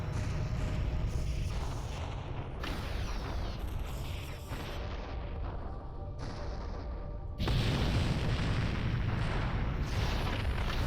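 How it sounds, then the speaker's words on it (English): A massive Sathanas warship blows apart in the space-combat game Freespace 2, a loud sustained rumbling roar of layered blasts that surges even louder near the end, with no voices. "But the explosion's probably going to be spectacular."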